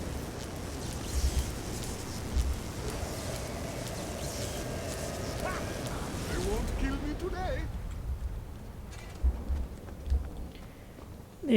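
Thunderstorm with steady rain in The Elder Scrolls Online, a constant wash of rainfall with low rumbles of thunder that fade toward the end.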